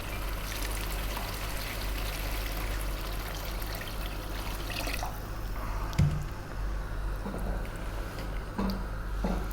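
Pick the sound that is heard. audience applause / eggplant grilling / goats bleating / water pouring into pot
water pouring into pot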